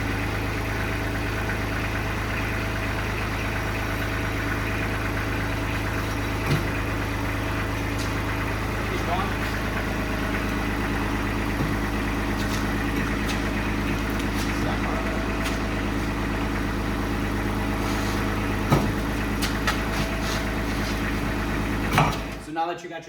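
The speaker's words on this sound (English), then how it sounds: "you're going to run your track in reverse again and work the teeth around the sprocket" A GT1000 machine's engine runs steadily while its track is driven in reverse: a constant low drone with a few faint clicks and clanks, ending with a quick clatter as it cuts out. A voice talks over it at times.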